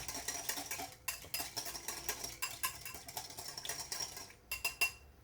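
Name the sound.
whisking vinaigrette salad dressing in a bowl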